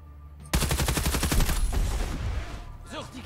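Rapid automatic gunfire in a chaotic military shooter game, a dense burst of loud repeated shots starting abruptly and sustained for about a second before trailing off into rumbling echoes and scattered game effects.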